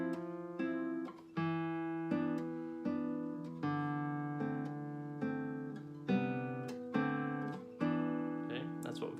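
Fingerpicked acoustic guitar plays a waltz in a steady lilting triple rhythm, with chords plucked with thumb, index and middle fingers together and a bass line walking down and back up, close and clear with no talking.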